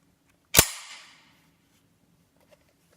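The slide of a Colt 1911 pistol is racked back with one sharp, close metallic snap that rings briefly, followed by a faint click in near silence.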